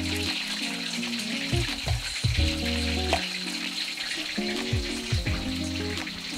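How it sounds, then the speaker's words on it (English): Chicken frying in hot oil sizzles and crackles continuously at close range, a dense, steady frying hiss with no voices. "the fryer oil is going to sizzle quite a bit less"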